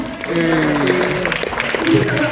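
Audience clapping at a film premiere gala, mixed with crowd noise and sustained music tones, fairly loud and continuous throughout.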